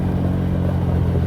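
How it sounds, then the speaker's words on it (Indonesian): A Honda Vario scooter in 'rata kanan spek 62' tuning is ridden with its exhaust giving a smooth, steady low rumble, loud and close, with no voices. "Jadi suara knalpotnya adem sih"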